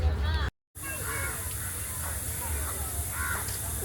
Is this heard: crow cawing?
yes